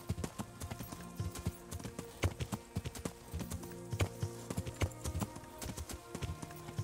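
Horse hooves clip-clopping in Kingdom Come: Deliverance, a steady fast rhythm of many close hoofbeats that carries on alone throughout, with only a faint trace of voice.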